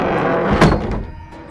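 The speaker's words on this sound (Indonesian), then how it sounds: "Seketika, pintu rumah itu terbanting dan tertutup dengan sendirinya." A house door slams shut by itself, landing as a single sharp, heavy thud midway through against a low background hum.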